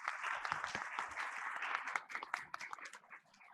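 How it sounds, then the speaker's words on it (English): Faint round of applause from an audience for a panel at a session on sustainable financial inclusion and climate, scattered claps thinning toward the end. "to felicitate the panel with a huge round of applause."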